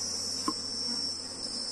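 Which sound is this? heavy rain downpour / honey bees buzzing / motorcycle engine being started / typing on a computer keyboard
honey bees buzzing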